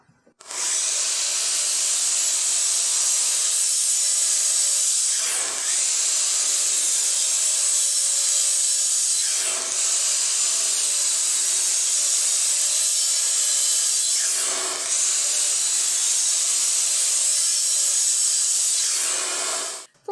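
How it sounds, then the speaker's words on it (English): A power saw cutting wooden pallet panels to length, a loud, steady whining buzz of the blade through the wood, broken by brief dips at about five, ten and fifteen seconds between cuts. "The next step in our project is to cut our panels to length."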